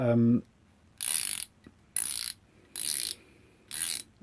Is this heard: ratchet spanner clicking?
yes